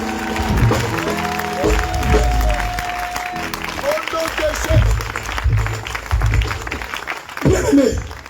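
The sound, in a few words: church congregation applauding and acclaiming Jesus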